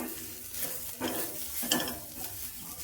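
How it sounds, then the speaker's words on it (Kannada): Masala and grated coconut are stirred in a hot pan, giving soft scraping strokes over a light sizzle, with two or three louder spoon swipes close by. "ಮಸಾಲೆ ಕಾಯಿ ಪುರಿ ಎಲ್ಲ ಹಾಕ್ಕೊಂಡ್ಮೇಲೆ ಒಂದ್ಸರಿ ಚೆನ್ನಾಗಿ ಮಿಕ್ಸ್ ಮಾಡ್ಕೊಳ್ಳಿ"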